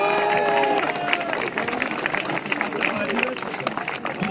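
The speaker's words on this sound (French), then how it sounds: "Et on les applaudit bien fort." Crowd applauding runners at the Marne et Gondoire marathon, outdoor clapping and cheering mixed with crowd noise, continuous and fairly loud, with a voice talking over it.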